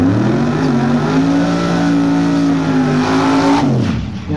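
Nitro drag racing cars at an IHRA Nitro Jam event at a motorplex, engines roaring loud and close in a sustained throbbing drone, pitch shifting as a car leaves the line and the sound drops away at the end.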